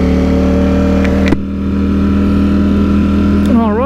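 A Ducati StreetFighter V4S motorcycle engine runs loud and close with a steady rumbling drone, briefly dipping in intensity before a short revving rise at the end; wind noise is mixed in.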